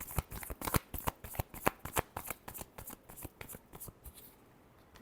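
Tarot cards are shuffled close up in a rapid series of crisp, flicking slaps that gradually thin out and soften toward the end.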